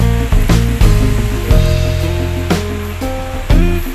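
Water pours forcefully into a drained resort swimming pool at a mountain resort, a steady loud rushing roar with a few thumping knocks and clatters over it.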